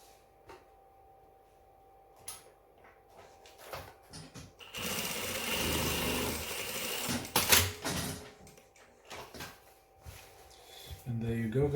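A sewing machine stitches a single seam to attach a pants pocket bag, a steady mechanical whirr running for a few seconds, with quiet handling noises before and after and no speech.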